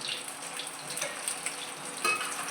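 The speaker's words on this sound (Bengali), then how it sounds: "আজকে বাজার থেকে ভেটকি মাছ কিনে এনেছি, ওটাই ভাজছি।" Barramundi (bhetki) fish sizzles and crackles in a hot pan, a steady frying hiss with small pops, fairly close and with no talking.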